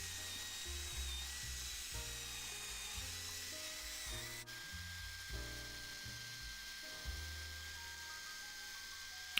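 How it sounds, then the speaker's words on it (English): Coarse wire wheel spinning in a drill against a rusty vintage Record 52 1/2 woodworking vise, a sustained high whine with repeated gritty grinding passes that rise and fall as the wheel is pressed on and eased off. "I moved on to a wire wheel in the drill, quite a coarse wire wheel, and I just took my time here and started to blast away all of that rust"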